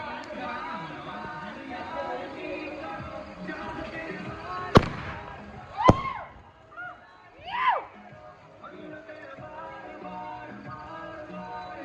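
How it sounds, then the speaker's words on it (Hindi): Several sharp firecracker bangs go off at intervals at a farmhouse, one very loud crack followed by whistling bursts, over outdoor background noise and distant voices. "पटाखा लगा रहे हैं यहाँ पे"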